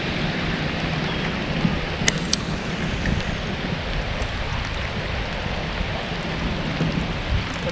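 Heavy rain pours outdoors as a dense, steady hiss and patter, loud and continuous, with a couple of faint sharp ticks and no talk.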